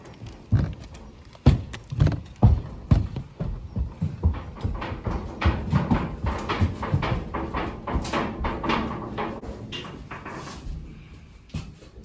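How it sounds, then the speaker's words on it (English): Several horses' hooves clomp and thud on the floor of a new horse trailer as they step in, a loud uneven run of clip-clops with hollow knocks and rattles, no talk. "next horse going in is Nellie."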